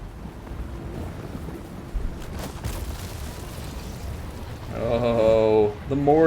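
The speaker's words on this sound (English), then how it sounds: "Oh, the mortars are coming!" Mortar fire in a Total War: Warhammer battle, distant thumping booms over a low rumbling battlefield, with a voice talking near the end.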